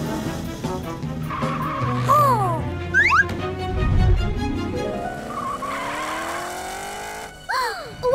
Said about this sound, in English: Morph into a super fast race car to catch Orful.